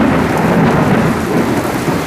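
Extremely heavy rain pouring down in the Dallas–Fort Worth area, a loud, dense, continuous roar of rainfall with deep rumbling underneath, with no talk.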